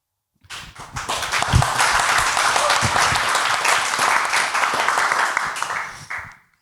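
An audience at an art debate event bursts into sustained applause for a French video and VR artist, starting abruptly and holding a dense, loud wash of clapping for about six seconds before cutting off.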